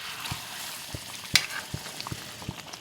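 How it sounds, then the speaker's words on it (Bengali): Spice masala sizzles in a pan just after water is added for a chicken curry gravy, a soft steady frying hiss broken by small pops and a few stirring clicks, heard close and alone. "দেখো আমি মশলা কষিয়ে জল দিয়ে দিয়েছি"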